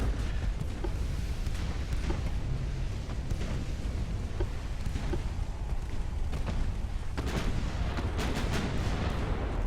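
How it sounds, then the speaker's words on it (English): Heavy naval gunfire and an ammunition detonation aboard a warship in Ultimate Admiral: Dreadnoughts, a dense, continuous rumble of booming shots and blasts with sharper cracks rising near the end. "somebody just had an ammo detonation."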